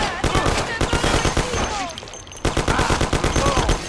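Rapid gunfire in the Mafia video game, dense bursts of automatic shots repeating close and loud with a brief lull midway, with shouted voices mixed in.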